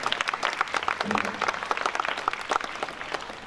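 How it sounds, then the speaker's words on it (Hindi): Scattered applause from a gathered crowd at a Passion of Christ event, individual claps audible as irregular bursts of moderate, fairly close clapping without speech. "उनके लिए भी भरपूर तालियां जी, बहुत सारी तालियां"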